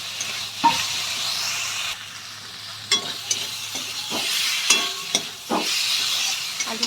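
Potatoes hit hot spices frying in oil and get stirred, a steady loud sizzle broken by scraping stirs and clacks of a spoon against the pan. No voices are heard.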